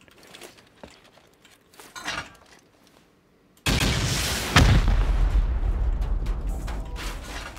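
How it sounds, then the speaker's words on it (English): Rockets slamming into hardside base walls during a video game raid, heard as a quiet lead-in followed by a sudden loud, sustained roar of blasts with one sharp peak partway through. "Let's go for these with rockets."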